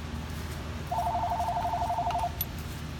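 A telephone rings in an auto repair shop during an AC replacement on a 1994 Ford Explorer, giving a steady electronic trill of about one and a half seconds over a low background hum.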